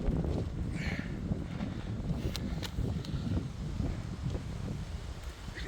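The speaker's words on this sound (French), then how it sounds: "il y a un sacré vent là" Strong outdoor wind buffets a phone microphone mounted on a tripod beside a car's engine bay, producing a continuous low, rumbling roar with gusty surges throughout.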